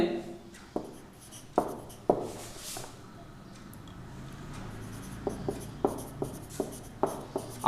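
Pen writing on paper while working a math problem, a string of sharp scratchy strokes in short bursts with a quieter pause in the middle, close and clear.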